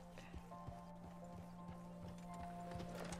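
Rhythmic clip-clop of video game horse hooves at a walking pace, quiet and steady, over a low constant hum with faint tonal music.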